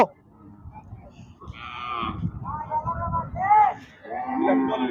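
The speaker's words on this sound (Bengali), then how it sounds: "দেখতে পাচ্ছেন অস্ট্রেলিয়া ফ্রিজিয়ান গরু" Several Australian Friesian cattle moo in turn, close by, with a long low call in the middle and more lowing toward the end over a busy outdoor cattle market background in Charmonai, Barishal.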